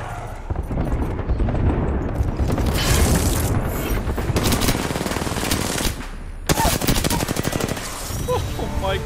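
Rapid automatic rifle fire from an R-301 in the Apex Legends video game, loud sustained bursts with booming impacts and mechanical clatter, a brief pause near the end before firing resumes.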